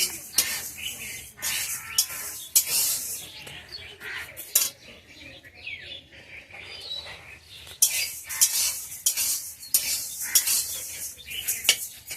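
A spoon scrapes and clinks against a pan in quick, repeated bursts of stirring as black gram lentils dry-roast, with faint bird chirps in the background.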